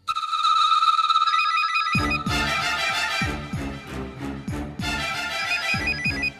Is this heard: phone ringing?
yes